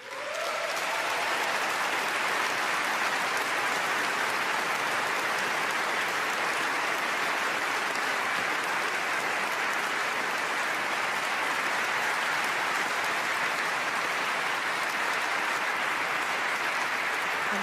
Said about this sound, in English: And after warm applause,